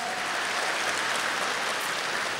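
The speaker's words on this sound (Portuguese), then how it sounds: "Pode dar uma salva de palmas, forte." A church congregation applauding loudly, a dense, steady wash of clapping from many hands filling the space without pause.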